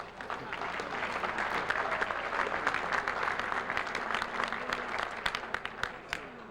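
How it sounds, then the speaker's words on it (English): Audience applause for inductees at the New York Sports Hall of Fame ceremony, a dense steady wash of many hands with sharper individual claps popping out, holding for several seconds before thinning slightly at the end. "let's applause for the first 3"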